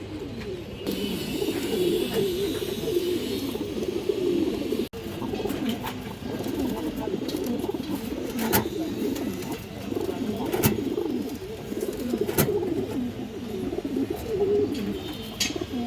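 Old-breed pigeons in a loft coo in low, repeated throaty phrases, several birds overlapping close by, with occasional sharper clicks and rustles and no talking.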